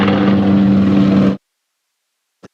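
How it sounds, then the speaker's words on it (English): A helicopter flies over a county cricket ground during a Yorkshire v Surrey championship match. Its loud, steady rotor and engine drone fills the air, then cuts off abruptly, leaving near silence and one faint brief knock. "Off goes the helicopter."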